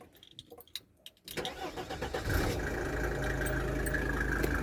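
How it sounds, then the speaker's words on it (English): Mercedes E250 W210 with a non-turbo pre-CDI diesel engine cranking briefly after a few quiet clicks, then catching and settling into a loud, steady, clattering diesel idle up close, with no speech. "Let's start up the engine. This takes me back, the sound of the pre-CDI engines."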